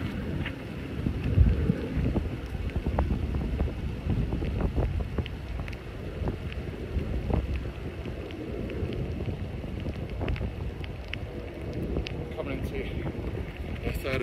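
Wet, windy, grey English weather outdoors: steady broadband wind rumble buffets the microphone throughout, with faint rain-like patter mixed in and a voice speaking over it.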